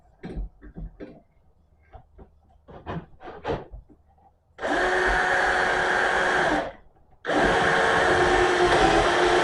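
A few light clicks and taps, then a power drill whirs loudly in two sustained runs while building a shelf, with a short pause between them.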